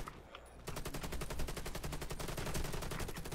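Rapid automatic gunfire from hip-firing in the video game Warface, a sustained fast rhythmic burst of shots starting after a brief quiet moment and continuing loudly to the end.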